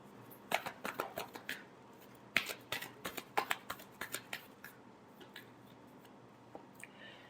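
Tarot cards shuffled by hand in quick riffling bursts, close and fairly quiet, with a brief pause partway before a few softer shuffles trail off.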